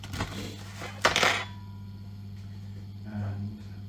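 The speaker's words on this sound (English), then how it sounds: "I generally use a fork. Let's open up the pack of our meatballs." A fork pierces and scrapes through a pack of meatballs, giving a couple of sharp plastic and metal clicks and rustles close up against a steady low hum.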